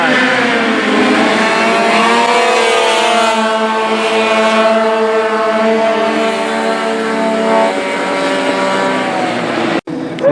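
A car at a demolition derby held on a race track drives past with a loud, sustained engine roar that rises and holds, a droning flyby that stays strong across the whole stretch before cutting off abruptly near the end.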